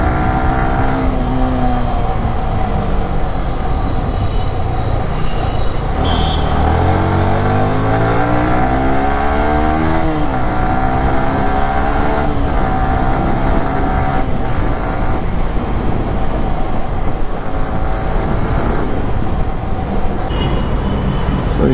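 A Yamaha R15 V3 sports motorcycle revs on the road outdoors, its loud engine note sweeping up and down through repeated rising and falling pitch runs over a steady rumble of traffic.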